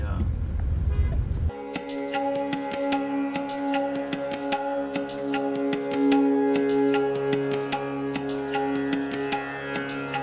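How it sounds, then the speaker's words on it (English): Car horns toot again and again in a heavy traffic jam in Dhaka, Bangladesh, short beeps from several vehicles overlapping over a constant engine and street rumble after a brief opening burst of noise. "Our traffic system, very heavy traffic jam."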